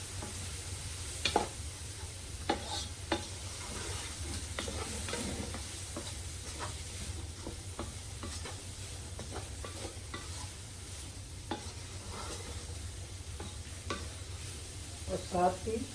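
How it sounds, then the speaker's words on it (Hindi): Egg fried rice with soy sauce stir-fried in a pan, giving a steady sizzle broken by repeated spatula scrapes and clacks throughout, with a low hum underneath. "ये सोया सॉस, तो हम फिर से 1-2 मिनट के लिए भून लेंगे।"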